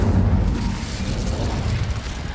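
An Incendio fire spell cast in Hogwarts Legacy gives a loud, full roaring whoosh that sustains evenly for a couple of seconds, dense and rumbling, with no voices over it.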